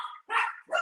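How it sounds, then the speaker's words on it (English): Dogs barking at home: two or three sharp, close barks in quick succession with brief gaps between them. "my wife just got home, so the dogs are barking."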